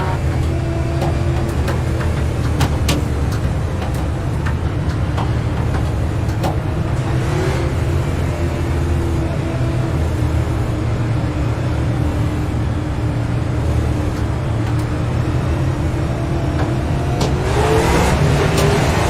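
Super late model race cars on the RAID tour at the Southern National 125-lap race accelerate at a restart, making a loud, steady engine roar with layered droning tones that builds slightly toward the end.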